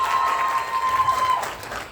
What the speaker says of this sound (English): One more round of applause for Callista, please.